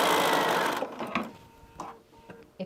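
Home sewing machine stitching a quarter-inch flat seam on quilt fabric: a steady, close whirring run of rapid stitching that stops after under a second, followed by faint clicks and handling noises.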